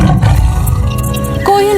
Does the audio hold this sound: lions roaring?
yes